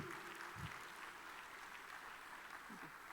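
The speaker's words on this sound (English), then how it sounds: "A bigger round of applause for him, please." Applause from a seated audience welcoming a guest speaker at a talk on the Indian Union Budget, a steady even wash of clapping heard at moderate distance with no voices over it.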